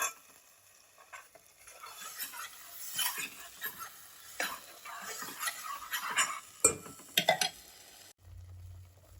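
Ground masala being stirred in a cooking pan, with scraping clinks of a spoon against metal and soft sizzling, irregular strokes close by that grow busier before ending abruptly.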